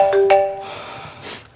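A short electronic phone ringing tone sounds twice in quick succession, clear and close, followed by a soft breathy noise.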